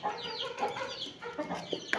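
Several hens cluck and chirp close by in short, overlapping calls, a busy chorus of fowl with no speech.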